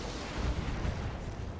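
Mech weapons fire in a battle video game, a dense rumbling barrage of low booms and blasts rolling continuously without a break.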